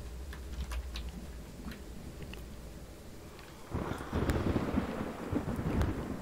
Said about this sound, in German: Meine Güte, wie es gewittert.